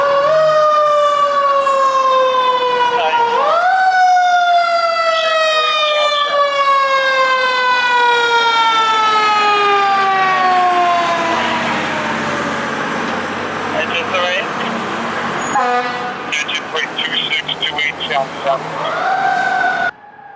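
Fire engine and ladder truck from the fire department respond with loud wailing sirens that rise and fall in long sweeping cycles, air horn blasts and engine rumble, passing close then receding as sirens wind up again.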